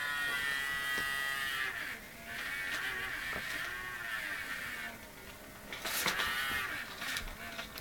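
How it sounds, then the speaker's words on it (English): A small electric motor driven by high-voltage rectified AC spins fast with a steady, high buzzing whine that wavers slightly in pitch, heard close and alone. "And that motor's just gone bananas."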